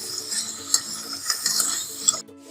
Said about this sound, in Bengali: চিকেনগুলোকে একটু মিশিয়ে নিচ্ছি মশলার সাথে।